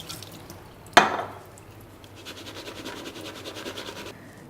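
Fresh water running over soaked almonds in a sieve at a kitchen sink, opening with a sharp knock, then a soft, steady trickle and patter of water for several seconds.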